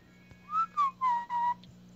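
Four clear whistled notes in a row during a podcast, each short and slightly falling in pitch, over a low steady hum.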